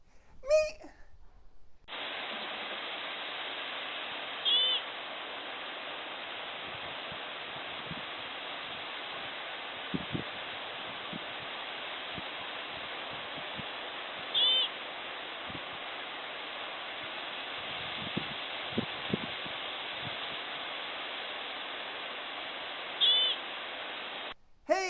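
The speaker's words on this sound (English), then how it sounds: "That is the sound of the American pika, commonly referred to as the rock rabbit." An American pika, the rock rabbit, gives a few brief, high, thin squeaks spaced roughly ten seconds apart over a steady, even hiss.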